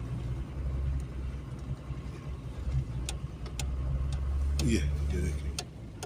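A Toyota HJ61 drives along a snowy winter road near Murree, Pakistan, its engine rumbling low and steady under occasional clicks while someone speaks briefly.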